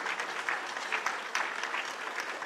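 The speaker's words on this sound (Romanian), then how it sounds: "acestea aplauze anunță un disc" Audience applause at a Christmas show in Brăila, a steady dense patter of many hands clapping together, fairly close and sustained throughout without talk.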